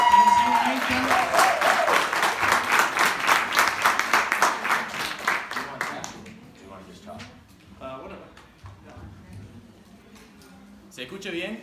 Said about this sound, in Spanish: un aplauso, por favor, para el señor Nathan.